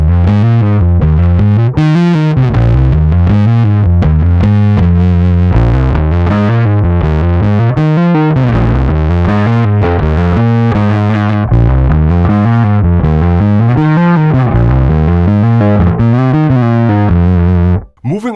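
A bass guitar played through an overdrive pedal at moderate gain, a thick, gritty riff repeating steadily and loud, cutting off abruptly at the end.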